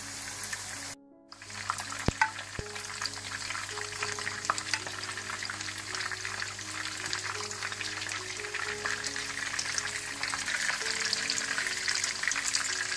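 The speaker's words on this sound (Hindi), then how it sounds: "इसी तरह से आप सारे कबाब शैलो फ्राई कर लें।" Gola kebabs shallow fry in a pan of oil with a loud, continuous crackling sizzle that starts after a brief pause at the beginning and stays steady and close throughout.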